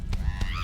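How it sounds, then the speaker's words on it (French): An angry squawking honk from a hen attacking the player in a fantasy role-playing video game, one short loud cry over the game's background sound. "Merde, attaqué par une poule."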